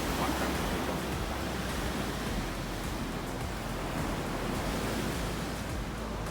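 Ocean waves wash onto a beach on the east side of Oahu, a continuous soft, even roar of surf with no distinct breaks, fairly quiet and steady throughout.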